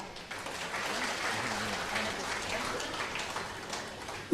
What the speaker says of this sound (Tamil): அப்படித்தான் என்றால் கைதட்டுங்கள்